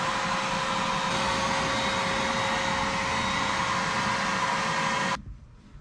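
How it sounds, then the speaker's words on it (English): Shop vac running steady and loud, pulling fluid through a fuel hose from a brake or clutch bleeder on an old abandoned U-Haul mini truck box van, with a continuous whine that cuts off abruptly near the end. "I got a whole piece of fuel hose in the end of the shop vac going down to the bleeder"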